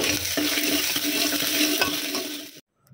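Close, busy sizzling and crackling of onion, garlic and asafoetida tempering in a hot pan, loud and steady, stopping abruptly near the end.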